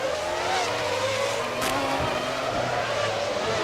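Formula One cars at the 2000 Monaco Grand Prix, a McLaren chasing a Jordan, with a steady high engine whine and tire noise carrying throughout under a distant crowd-like wash.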